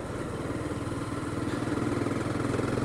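Honda CBR300R 300 cc motorcycle engine revving up from below 3000 toward 4000 rpm, a steady, close mid-pitched drone that rises slightly in loudness, with no voices over it.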